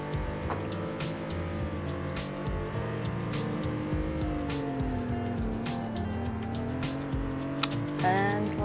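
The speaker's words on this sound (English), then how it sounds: "Let's get a top speed test." A car in the Greenville video game accelerates for a top-speed run, its engine humming and rising steadily through the gears at a constant level, with faint clicks over the drone.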